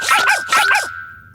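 A cartoon dog named as a flipping dog of doom gives four quick, bright yips in a row, close and loud, with a steady tone running beneath, ending in a short thump.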